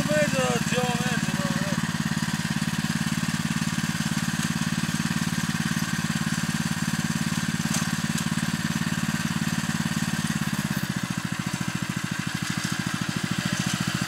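An engine runs at a steady idle-like drone for the whole stretch, its pitch dropping slightly near the end, while people talk over it.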